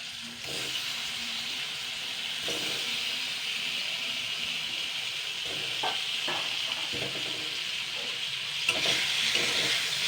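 Chana dal fritters being stirred in a frying pan, with a steady sizzling hiss of frying throughout and several soft scraping stirs of a spatula, close and moderately loud, no talking.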